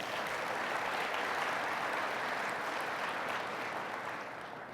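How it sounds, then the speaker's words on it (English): A large audience at a broadcasting industry show's opening session gives sustained, dense applause, steady throughout and easing slightly at the end. "Let's give them another round of applause."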